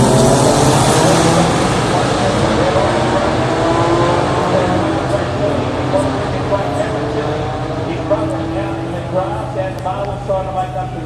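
Race car engines roar together in a loud, dense drone as a pack pulls away at a race start, with a commentator talking over the noise throughout; Touring Car Masters at the 2017 Adelaide Clipsal 500.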